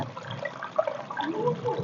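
Water poured slowly over a hand into a pot of water lilies and lotus, a soft gurgling trickle near and fairly steady, with a faint murmur but no clear talk.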